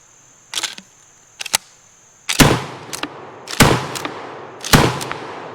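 An Ithaca 37 M&P pump shotgun is slam fired outdoors, giving sharp, loud blasts at irregular intervals with a faint steady tone underneath.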